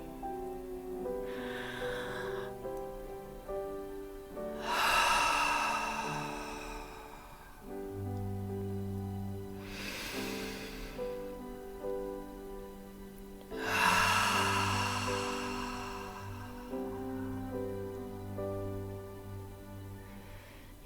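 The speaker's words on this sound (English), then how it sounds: "give you that opportunity to experience an inhale and exhale" Slow, deliberate breaths during a breath prayer, with three or four airy inhale-exhale swells spaced several seconds apart over soft sustained background music.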